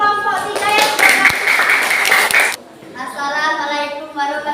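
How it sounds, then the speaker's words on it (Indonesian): A classroom group claps for a student team, a short burst of light, quick clapping that stops abruptly, followed by children's voices speaking. "Kasih tepuk tangan dulu untuk kelompok 3 yang sudah."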